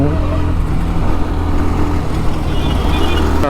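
A 2023 Bajaj Pulsar NS 160 motorcycle with USD forks and dual-channel ABS pulls away in first gear into traffic, its engine droning steadily and loudly up close throughout.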